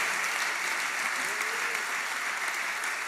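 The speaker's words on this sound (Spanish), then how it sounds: "Aplauda el nombre del Señor." A church congregation applauds during a sermon, steady dense clapping from a large crowd sustained throughout, loud and even, with no voice heard.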